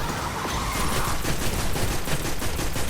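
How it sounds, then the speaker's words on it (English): Sustained auto rifle fire in the Destiny video game, a fast, even stream of loud shots that blurs into a continuous rattle, heard alone with no talking. "even my auto rifle's getting some good work on them right now"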